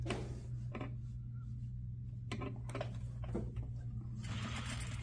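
A sewing machine stitching a waistband onto a skirt around the waistline from center back, with short bursts of quiet mechanical whirring separated by pauses, close up and faint over a low steady hum.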